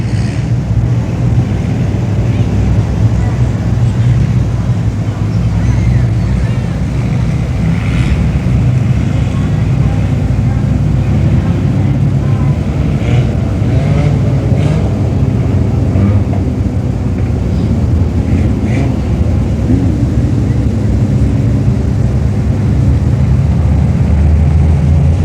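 Race cars roar in a continuous, loud, dense drone during a feature race on the Brownstown Speedway dirt track, with engine noise filling the whole stretch and no clear gaps.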